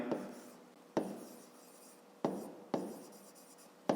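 Pen or chalk strokes mark out a fifth-grade math exercise, four distinct writing bursts each starting sharply and trailing off, close and fairly quiet with no voices.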